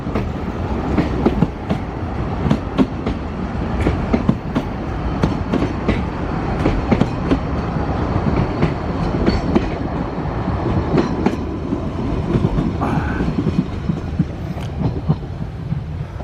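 A train led by a Pullman carriage passes along the railway toward Caernarfon on the Anglesey line, giving a steady close rumble with rhythmic clickety-clack of wheels over rail joints and some wind buffeting, with no voices.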